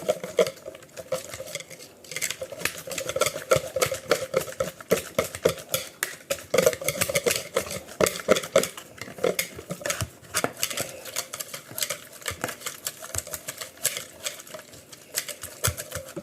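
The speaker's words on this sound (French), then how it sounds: "Je mélange." Pastry dough for a spring flower tart being mixed by hand in a bowl, a steady run of quick scraping and tapping strokes against the bowl, close and fairly loud, with no talking.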